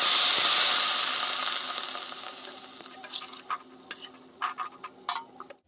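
Water poured into a hot pan of frying vegetables hisses and sizzles loudly at first, then fades into quieter simmering with intermittent scraping clicks of a spoon stirring.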